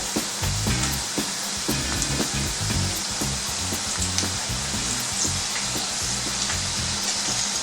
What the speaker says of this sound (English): I'm going to go ahead and add our fries back to our pot here